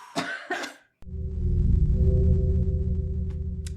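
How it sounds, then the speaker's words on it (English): Two quick coughs at the start, then a sudden loud, steady low hum takes over for the rest. "Oh God, now I have to cough."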